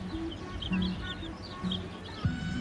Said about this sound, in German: Hier sehen wir noch ein paar Nachwuchsküken